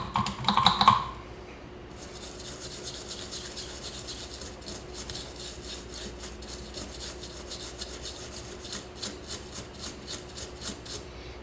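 A TV circuit board with a backlight fault is scrubbed clean after soldering: rhythmic, close brushing strokes rasp steadily after a brief sharp noise at the start, with no one talking.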